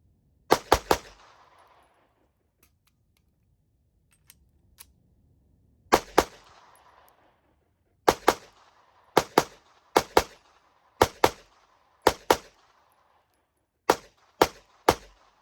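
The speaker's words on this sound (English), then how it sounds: "the gun shoots super nice, low recoil" Palmetto State Armory Micro Dagger pistol fired at a range: sharp, loud single shots and quick pairs spaced across the clip, each with a short echoing tail, and no talk.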